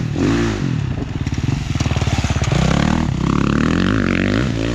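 A dirt bike rides fast through the woods with its engine loud and close, revving and pulsing as it speeds up and shifts, with scrapes and clatter from the trail and no talking.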